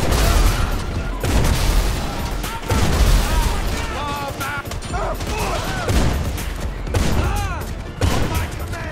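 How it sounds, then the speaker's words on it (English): Loud, rapid gunfire from a Pump Shotgun Mark II with explosive rounds in GTA Online, repeated heavy booming blasts and explosions filling the scene almost continuously with little pause between shots. "The Pump Shotgun Mark II is one of the most powerful weapons in the game, especially when equipped with the explosive rounds."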